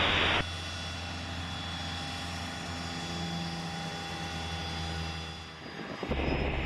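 A fixed-wing aircraft takes off at Deer Valley airport, its steady engine roar holding loud and close for several seconds before abruptly dropping away.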